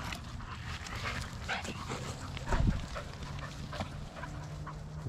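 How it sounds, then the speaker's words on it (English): Several dogs play ball together indoors, with barks, yips, whimpers and panting mixed in a busy, close scene. One sharper bark stands out near the middle, and a voice talks intermittently over the activity. "This is just a beautiful thing, multiple dogs like this playing ball"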